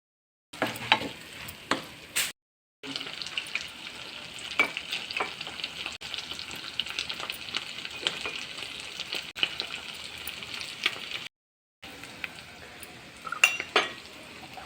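Onion paste frying in oil in a pan for an egg curry, stirred with a utensil, giving a steady sizzle with frequent scraping clinks against the metal, with two brief silent breaks and no talk.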